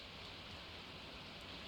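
Steady rain falling in the Stardew Valley video game after a rain totem is used, a soft, even hiss that runs continuously without pause and stays fairly quiet throughout.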